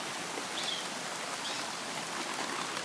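Steady afternoon rain pours outdoors in Southwest Florida, a dense, even hiss of drops with no break, heard alone at moderate level.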